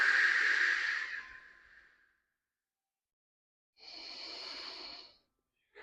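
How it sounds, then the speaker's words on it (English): During seated chair yoga, two slow, deep breaths are heard close up: a long exhale fading out over about two seconds, a silent pause, then a steady airy inhale, with no talking. "Maybe we can follow it with our breath."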